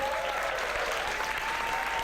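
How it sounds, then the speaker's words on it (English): Steady, dense applause from a crowd at a women's climbing competition final fills the space evenly throughout, a continuous wash of clapping heard from a distance. "Give her a big round of applause"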